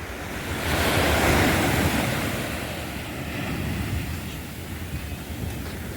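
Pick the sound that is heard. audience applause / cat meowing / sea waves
sea waves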